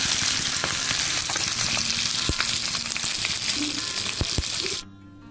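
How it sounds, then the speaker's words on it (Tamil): Fish sizzles in hot oil on a tawa pan, a loud, continuous crackling hiss with scattered pops and spits, close up, cutting off abruptly near the end. "மீன் பொரிக்கிற இந்த ஆயில் சவுண்டை கேட்குறப்பவே நம்மளுக்கு ரொம்ப டெம்ட் ஆகும்"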